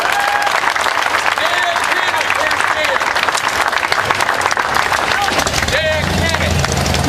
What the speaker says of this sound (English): a round of applause for our volunteers that help us do what we do every year.